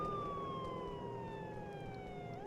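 Wailing police car siren in a video game, a single long descending tone with harmonics, fairly faint and steady over a low road rumble.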